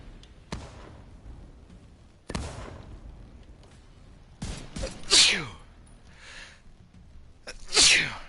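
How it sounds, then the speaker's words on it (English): A person sneezes loudly twice amid gunfire and action in a PS4 shooter game, with sharp bursts and brief talk between. "Mid sneeze too."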